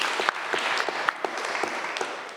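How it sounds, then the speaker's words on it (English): A live audience gives brief applause as Helena Good is introduced, a short burst of individual claps standing out over a soft background of clapping. "Give her a round of applause."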